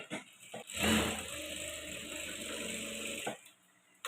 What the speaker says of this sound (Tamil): அதுக்கு பிறகு இதை மடித்து இப்படி ஒரு தையல் போட்டுருவோம்.